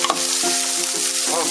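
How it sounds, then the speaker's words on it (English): Chopped onion sautés in a little oil in a pan, a bright close sizzle running continuously, with a short stirring scrape near the start. "All right, let's got a little oil in here. We're gonna saute our onion."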